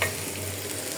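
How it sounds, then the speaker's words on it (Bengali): Onions hit hot oil in a wok and sizzle, a brief, soft, steady crackle of frying heard alone. "আর এখানে কড়াইতে পেঁয়াজ দিয়ে দিলাম, ডিম বোনা করব।"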